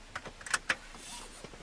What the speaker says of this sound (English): I'll crack the window for you so you get some air